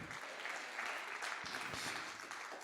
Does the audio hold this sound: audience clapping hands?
yes